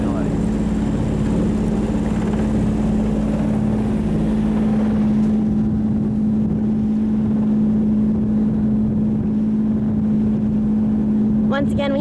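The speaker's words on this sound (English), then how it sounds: "Once again, we have to motor in order to get out and get some wind." A sailboat's engine motors out of a sheltered bay off Jamaica's north coast, giving a loud, steady low drone throughout that ends with a brief voice.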